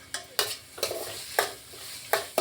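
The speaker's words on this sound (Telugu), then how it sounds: "శనగపప్పు పల్లీలు ఎండుమిరపకాయలు పచ్చిమిరపకాయలు పుదీనా కరివేపాకు ఇవన్నీ వేసుకొని కలుపుకున్నాను" A spoon stirs chana dal, peanuts, dried and green chillies, mint and curry leaves in a pan, making sharp scraping strokes about every half second over a soft sizzle, close and alone.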